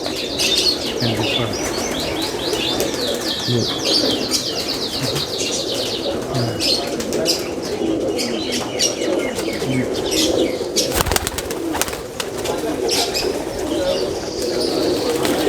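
Teddy, Dubwale and Siyalkoti pigeons coo and chirp steadily through the whole stretch in a loft in Sharjah, UAE, with occasional wing flaps and a brief louder rustle near the middle, no voices.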